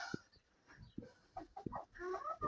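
Laying hens cluck softly in short bursts, with scattered clucks and rustling close by, fairly quiet overall.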